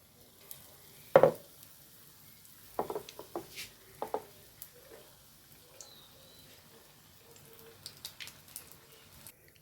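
Battered quail eggs drop into hot oil with a few sharp bursts of sizzling, then a quiet, crackling fry with scattered pops and light clinks.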